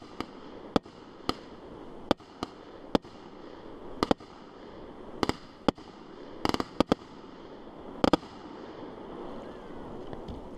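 Fireworks exploding: a series of sharp, distant bangs at irregular intervals over a steady outdoor background hiss, some coming in quick doubles, with no talking.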